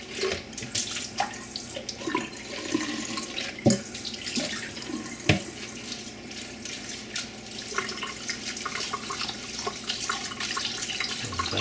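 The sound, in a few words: tap water rinsing sprouting seeds in a jar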